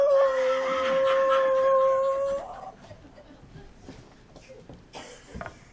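A sick dog's long, wavering howl rings out for about two seconds as a radio-show sound effect, then trails off into quiet whimpers and faint shuffling.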